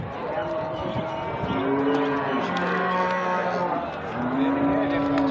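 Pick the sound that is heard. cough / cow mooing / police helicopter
cow mooing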